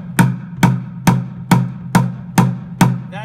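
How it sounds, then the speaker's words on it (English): Seven evenly spaced bass tones struck in the center of an upturned bucket, each a deep thump with a short bright attack, played alone at a steady pulse. "all you're going to do pretty simply is play four in the center of your bucket"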